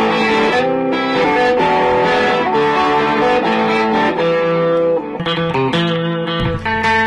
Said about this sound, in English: Now I can turn the guitar down a bunch and not lose all of the distortion